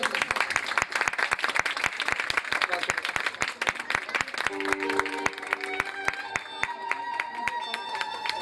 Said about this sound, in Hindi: जोरदार तालियों में